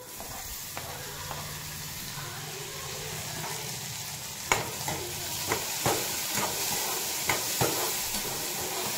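Tomatoes hitting a pan of fried onions and frying in a steady hissing sizzle, with sharp spoon taps and scrapes against the pan in the second half, nearby and with no voices.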